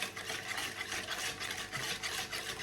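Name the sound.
stirring eggs and sugar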